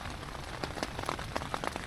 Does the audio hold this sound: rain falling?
yes